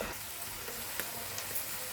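Cabbage ghonto frying in a pan with a steady soft sizzle, broken by occasional faint scrapes of stirring, close and without speech.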